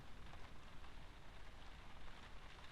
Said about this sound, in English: you start listening to the final raindrops hitting the roof